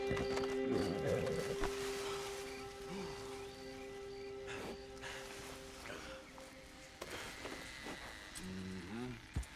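A horse in the Red Dead Redemption 2 video game being cleaned, with soft snorts, shuffling hooves and brushing rustles at close range, set against steady tonal background music and intermittent voices.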